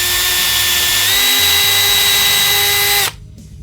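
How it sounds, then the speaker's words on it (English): A power drill whines steadily and loudly as it bores a tiny screw hole in an Encore guitar body to hold the output jack, its pitch stepping up slightly partway, then winding down abruptly near the end. "drill a tiny little hole"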